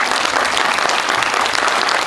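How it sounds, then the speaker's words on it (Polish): Audience applauding at a school celebration and first-grade induction ceremony, honoring grandparents and parents; steady, dense clapping that fills the whole stretch without a break. "Wielkie brawa dla tych naszych dziadków i rodziców."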